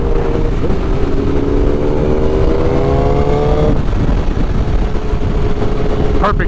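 A motorcycle rides by on a cruise, its engine rising in pitch as it accelerates past close by over steady wind and road rumble.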